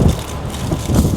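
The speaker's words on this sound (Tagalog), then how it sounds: "Ayun, lumakas yung hangin" Strong wind gusts outdoors at night by a church in the middle of a cemetery, a loud, broad rush that buffets the microphone in swelling waves with no talk.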